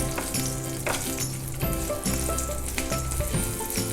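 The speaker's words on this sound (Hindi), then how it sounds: "हरी मिर्चें डाल रहे हैं, इन्हें भी हल्का सा फ्राई होने देते हैं पहले" Green chillies fry lightly in oil for dhokla tempering, giving a close, crackling sizzle with bursts of popping and spattering over a steady background, and nobody talks.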